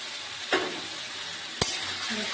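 Spice paste with lote fish fries in a pan for a curry, a steady soft sizzle broken by two quick stirring scrapes, close and without voices.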